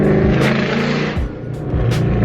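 A BMW E36 M3 engine revs hard while drifting, loud close-up rising and falling revs with a brief dip and repeated climbs.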